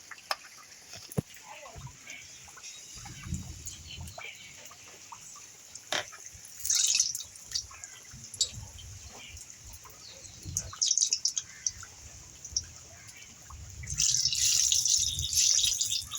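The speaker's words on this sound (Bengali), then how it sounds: "এইভাবেই আমি এবার মালপোয়াটা ভেজে নেব।" Malpua batter fries in hot oil with a steady hiss that swells into louder crackling sizzle bursts as fresh batter goes in.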